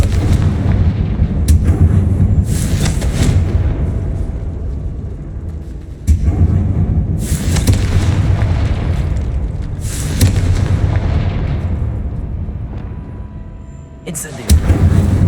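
Confringo spell explosions in the Hogwarts Legacy video game burst repeatedly as loud, booming blasts with rumbling decays, several in a row at irregular intervals.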